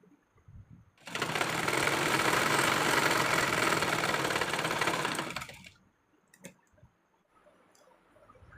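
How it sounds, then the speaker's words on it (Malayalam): Sewing machine running steadily as it stitches along the edge of a garment, a V-neck half-collar coord set, one continuous loud whirring run of about four seconds, then a few faint handling clicks and quiet. "നമുക്ക് ഈ ഒരു അരികു വശം ഒന്ന് ചേർത്ത് സ്റ്റിച്ച് ചെയ്ത് കൊടുക്കാം കേട്ടോ."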